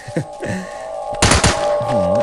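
A shotgun fires in the zombie video game Into the Dead 2: one sharp, loud blast over a steady tonal game-music background, followed by a brief voiced sound.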